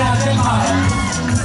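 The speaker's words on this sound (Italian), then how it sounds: "Un applauso dell'area del mare." A crowd at a women's beach handball match in Pescara cheers and shouts in a steady, loud burst of babble, with no clear handclaps standing out.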